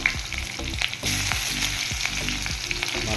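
Onions frying with fish in a pan, with a steady close sizzle and crackle and regular scraping stir strokes, louder after the first second, and no talking.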